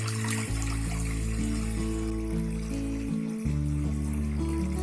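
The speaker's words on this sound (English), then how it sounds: "First we are going to add enough water for boiling." Water pours steadily into a cooking pot for vegetable stock, a continuous filling gush whose pitch rises as the pot fills, with a short break partway through.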